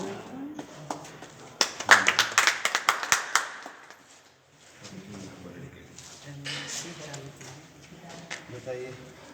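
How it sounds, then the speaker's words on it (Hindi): A short, lively burst of hand clapping from a small group at an inauguration ceremony for a school teaching-materials fair, fading after a few seconds into nearby talking voices. "उद्घाटन ताली बजाइएगा"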